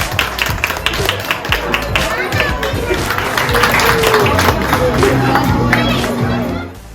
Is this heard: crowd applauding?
yes